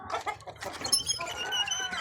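Andijan black chickens cluck in a steady, close run of short, overlapping calls that carry on for about two seconds with no talk.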